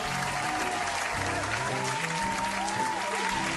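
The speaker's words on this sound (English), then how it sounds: "That deserves claps." Crowd applause in the game That's Not My Neighbor, dense and steady for several seconds, loud and close, with faint musical tones beneath the clapping and no voices.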